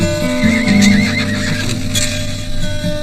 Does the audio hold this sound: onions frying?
no